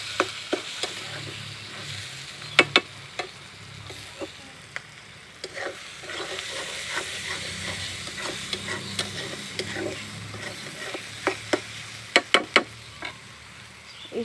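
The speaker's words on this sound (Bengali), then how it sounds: "আমি এটাকে ভালোভাবে ভাজবো, একটু ভাজার পরে আমি শুটকিটা দিয়ে পরে কিছুক্ষণ ভাজবো" Chapa shutki, pressed dried fish, fries in an oil-filled pan during a shutki bhuna preparation, with steady sizzling and repeated scrapes and clicks of stirring throughout, close and moderately loud, no talk.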